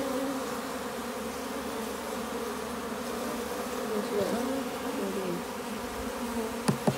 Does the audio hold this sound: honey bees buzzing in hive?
yes